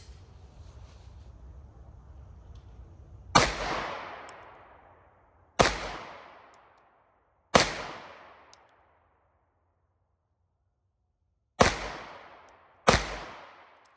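A Springfield Echelon pistol fires Winchester White Box ammunition outdoors, five sharp, loud, close shots at uneven intervals, each trailing off in a ringing decay, with an earlier low rumble before the first.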